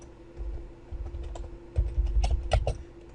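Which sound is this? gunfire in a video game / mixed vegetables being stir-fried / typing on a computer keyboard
typing on a computer keyboard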